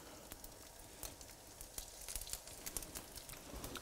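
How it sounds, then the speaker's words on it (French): Sea bream fillets sizzle in a frying pan with a soft, steady crackle and scattered sharp pops spread across several seconds, fairly quiet and close, with nobody speaking. "on va entendre que ça crépite"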